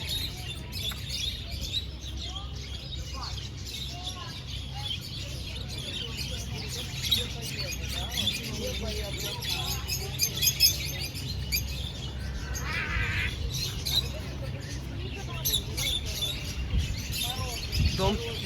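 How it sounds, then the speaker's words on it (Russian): Parakeets chirp in an enclosure at a small animal area in Sevastopol, with faint scattered tweets over a steady low hum while people talk nearby. "А, попугайчики."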